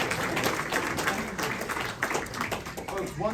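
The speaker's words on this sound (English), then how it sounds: "How about a round of applause for the rest of the band" An audience at a classic jazz concert applauds the band, steady dense clapping throughout with some voices mixed into the crowd noise.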